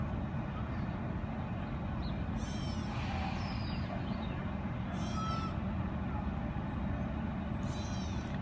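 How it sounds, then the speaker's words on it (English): A gray catbird gives several short, mewing cat-like calls at a distance outdoors, spaced a few seconds apart over a steady rumble of background noise. "The reason why they're called catbirds is because they sound like they're meowing."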